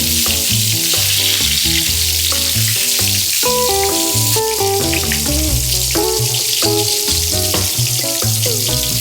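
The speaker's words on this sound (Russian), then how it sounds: "Сковородка очень приятно шкварчит." Fish pieces sizzle steadily in hot oil in a frying pan, a loud continuous crackle that runs the whole time under background music.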